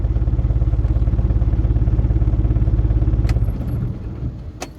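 A car engine idles with a fast, steady throbbing pulse while the vehicle reverses to park at a wedding hall, then the note drops away near the end as a couple of sharp clicks sound.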